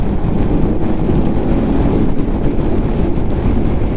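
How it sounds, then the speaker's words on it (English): Steady cold wind roars and buffets a microphone during a Lifan KPM 200 motorcycle ride, a dense low rumble with no breaks for the whole stretch. "it's cold and windy today"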